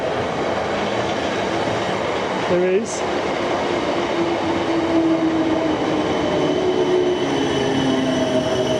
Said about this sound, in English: Sounds like another train coming up behind me.